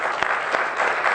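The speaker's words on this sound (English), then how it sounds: "No clapping." An audience at a city council meeting claps in a brief, dense burst of applause, steady and close throughout.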